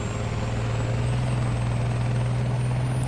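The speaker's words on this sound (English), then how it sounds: "Helicopter." A helicopter in the War Thunder ground battle game drones steadily with a loud, constant low rotor hum and engine whine, unbroken throughout with no voices.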